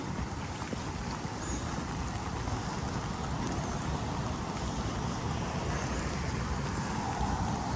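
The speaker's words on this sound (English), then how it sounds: "I don't know if you guys can see how hard it is raining" Heavy rain pouring steadily on a forest trail, a dense, even hiss of downpour that stays constant throughout with no voices.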